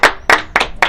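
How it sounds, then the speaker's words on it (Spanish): Audience applause, heard as four sharp, loud bursts of clapping in quick succession, close by with no talk over it. "aplausos acá para la gente de Atirada, para don Julio."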